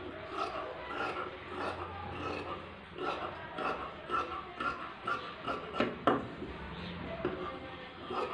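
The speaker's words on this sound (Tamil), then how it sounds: "இதை அப்படியே கட் பண்ணி எடுத்துடலாம்." Scissors cut through blouse fabric in a series of close, soft, rasping strokes that repeat at an uneven rhythm, fairly quiet with no talk over them.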